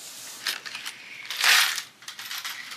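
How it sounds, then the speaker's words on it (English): Paper cash being handled and shuffled while stuffing envelopes, close-up rustles and crisp flicks in short bursts, with a louder swish in the middle and no talking. "I love the sound of money."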